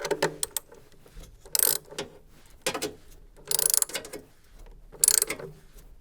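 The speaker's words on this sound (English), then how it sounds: "Now tighten the retaining nut using your 10mm socket set, ensuring that this is fully tightened to secure the element in place." A 10mm socket ratchet tightens the retaining nut on the heating element of a Beko washing machine, giving three separate bursts of close, crisp ratcheting clicks with quiet pauses between them.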